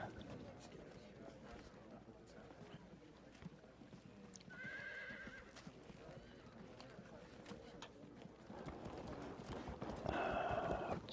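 Javelin horse cavalry in the Field of Glory 2 strategy game, with faint horse whinnies and hoof clatter from the game sounds playing quietly under a steady background mix.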